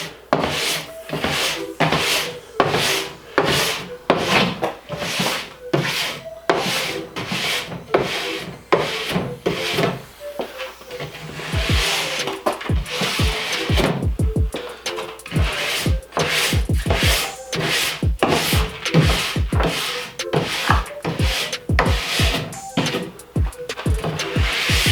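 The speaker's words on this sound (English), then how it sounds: "You scrape the excess off, and then you brush the excess off." A scraper and brush work excess wax off skis with repeated close, rhythmic scraping and rubbing strokes that continue steadily throughout, with no voices.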